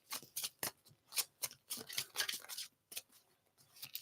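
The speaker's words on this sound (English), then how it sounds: "I'm doing an old-fashioned shuffle for y'all." Tarot cards are shuffled by hand in an old-fashioned way, giving a run of close, crisp papery riffles and slaps in an irregular rhythm, with no talking over them.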